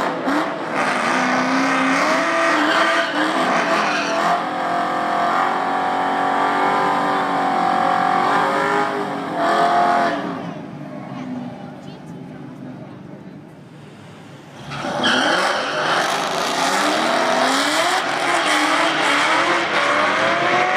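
Supercharged Kenne Bell 2000 Mustang GT racing a Mustang Bullitt: loud, sustained V8 engine roar with rising pitch sweeps through gear changes, dropping off for a few seconds before surging back hard.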